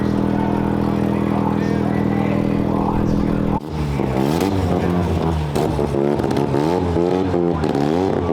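A Mazda RX-7 tuner car rolls into an indoor car show at a baseball Topgolf venue. Its engine idles loud and close, then breaks into repeated sharp revs that rise and fall for the rest of the clip.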